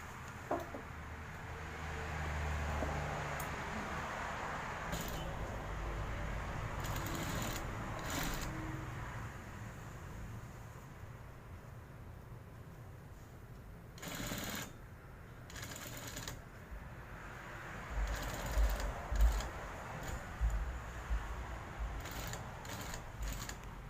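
A sewing machine stitches a binding strip onto a T-shirt collar, running over the existing seam line, with a steady mechanical chatter that comes in stretches and pauses, and several sharper bursts partway through.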